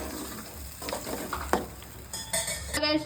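An onion-tomato spice paste is stirred in a frying pan for a Telangana-style fish curry, with a soft sizzle under scraping and the occasional clink of a utensil against the pan at close range.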